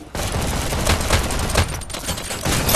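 Rapid bursts of gunfire from a VR shooting game, loud and continuous with sharp repeated cracks filling the clip, with no talk over it.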